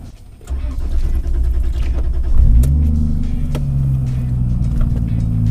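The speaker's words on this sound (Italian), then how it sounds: "Sono al volante di una Supra." A Toyota Supra with a 600 hp single-turbo engine idling, a loud, close rumbling idle that deepens as the revs rise, then settles into a steady throbbing drone with a lumpy rhythm.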